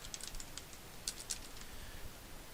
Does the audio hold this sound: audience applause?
no